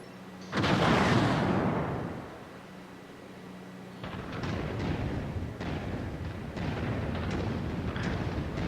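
Explosions as a battle mech is destroyed in MechWarrior 5: Mercenaries, a loud deep blast with a long rumbling decay, followed by ongoing rumbling combat noise and scattered impacts.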